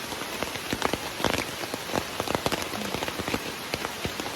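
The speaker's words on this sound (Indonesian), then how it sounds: "Hujannya udah sedikit reda" Steady rain falls during a mountain hike on Gunung Halau-Halau, a dense patter of drops hitting nearby surfaces throughout, close and fairly loud.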